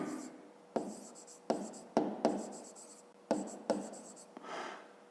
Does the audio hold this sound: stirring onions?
no